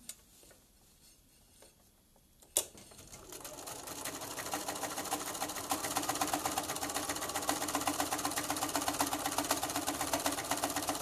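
A sewing machine quilts through fabric and batting, starting after a quiet moment and a sharp click, then running in a fast, steady mechanical whir and rapid needle chatter, close and alone.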